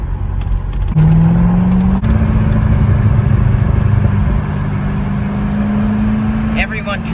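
A supercharged 6.2-liter LS3 V8 in a custom 2009 Chevrolet Corvette C6 drones loud and close with a steady, rising engine tone while driving, and a voice talks over part of it.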